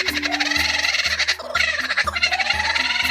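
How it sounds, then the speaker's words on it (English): A sped-up kookaburra call, turned into a rapid, cackling, gobble-like burst of repeated notes, plays loudly over a regular low thumping beat. "a sped up, cracked out call of the kookaburra"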